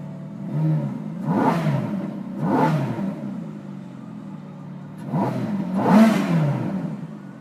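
A 2007 Ferrari F430 Spider's V8 engine is blipped at a motorsports dealership in Naples, four sharp revs rising and falling from idle, close and loud, with a throaty exhaust note between bursts.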